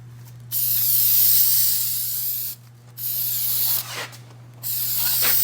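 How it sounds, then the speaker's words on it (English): Red dye penetrant, a water-soluble type, sprayed onto a cleaned wheel hub of a Wanderlodge bus, heard as three loud bursts of aerosol hiss with short pauses between them over a steady low hum. "We're going to spray the penetrant on it now,"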